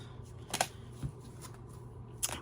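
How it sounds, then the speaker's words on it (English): A tarot card deck is shuffled by hand, giving a few soft, brief riffling and tapping bursts close by in a quiet room. "If I want to shuffle this deck, I either have to split it into two"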